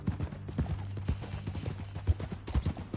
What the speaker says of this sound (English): That a new horse?